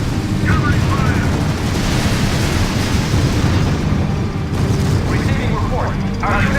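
Battle fire and explosions from the strategy video game R.U.S.E. make a dense, loud, continuous rumble, with radio-style voice chatter over the top.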